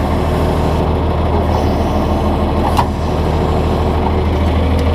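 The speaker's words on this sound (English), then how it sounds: "just be sure to fire the tractor up and see if she picks up." Rhino PT419H tedder setting aside, a tractor engine runs steadily at a loud, constant idle-like drone throughout, with no break in the sound.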